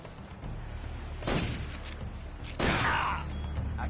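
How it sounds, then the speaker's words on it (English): Enemy gunfire in Metal Gear Solid 3: Snake Eater, with two sharp loud bursts of shots and ricochets over a steady game background rumble. "He hit me? Oh, his bullets ricochet."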